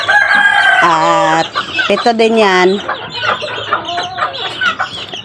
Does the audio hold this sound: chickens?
yes